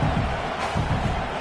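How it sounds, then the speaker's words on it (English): Stadium crowd at a college football game between Arizona and UCLA, a broad steady roar filling the background for a moment without distinct cheers. "This crowd going to try to make life miserable for these guys."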